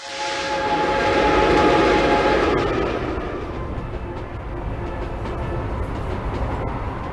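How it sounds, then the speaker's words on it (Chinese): A train runs along the tracks in a drama scene, a loud continuous rumble with a brief high whistle-like tone at the start, then steady rolling noise. "老五，咱们改换火车。"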